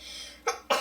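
Two short, sharp sneeze bursts from a person nearby, the second about a quarter second after the first, over a soft background hiss.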